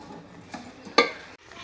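Oats cooking in a pot in a home kitchen give off soft stirring and faint bubbling, with one sharp metallic clank of a spoon against the pot near the middle.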